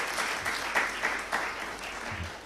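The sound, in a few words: audience applauding the government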